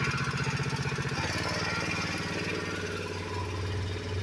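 The pump engine on a farm sprayer idles with a steady low throbbing chug, fairly close and continuous, its pulsing rhythm shifting slightly partway through.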